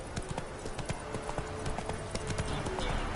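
Hooves of the horse Roach in The Witcher 3, a rapid rhythmic clatter of galloping steps, close and steady against busy game background noise.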